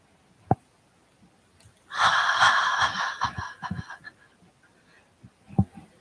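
During a qigong breathing exercise, a long audible breath is pushed out through the mouth in one breathy, airy exhale lasting about two seconds, framed by a few soft isolated clicks and quiet pauses.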